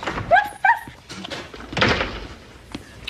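A few short, high-pitched yelps and barks from a dog nearby, followed by a couple of dull thuds and some rustling.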